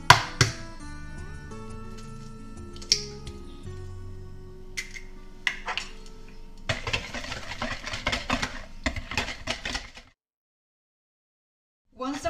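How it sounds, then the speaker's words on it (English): Eggs being mixed into creamed butter and sugar for a Spanish pound cake, with irregular close clinks and scraping of a utensil against a bowl, busier toward the end before falling silent. "what we are going to be doing is we will be adding the eggs one by one"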